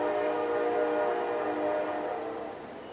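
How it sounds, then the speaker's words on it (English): An eastbound Kansas City Southern Railroad train running light passes with a loud sustained roar and tonal horn-like drone, gradually fading toward the end. "The eastbound Kansas City Southern Railroad."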